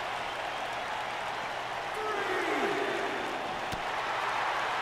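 A large crowd roars and applauds steadily in the background of a WWE 2K wrestling game match, a continuous wash of cheering that swells slightly midway.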